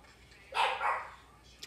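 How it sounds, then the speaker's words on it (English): A dog barks during an Apex Legends gaming session, one short bark-like burst followed by a fainter second, fairly quiet under a low background hum. "Link, why are you barking?"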